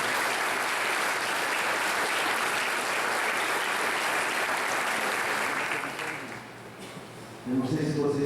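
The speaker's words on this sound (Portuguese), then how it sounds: "Uma salva de palmas para Jesus" A church congregation applauds for several seconds, a dense, steady wash of clapping from a crowd. It fades near the end, and a voice then begins speaking.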